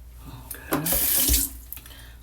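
A tap runs water to wet hair while styling natural curls, a steady rush swelling for about a second in the middle of the short clip with soft handling sounds around it.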